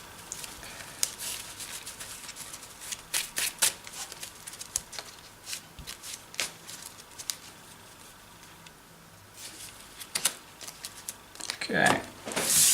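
A deck of trading cards shuffled by hand in a quiet room, giving soft irregular riffling patters and flicks across several seconds, with a louder rustle near the end.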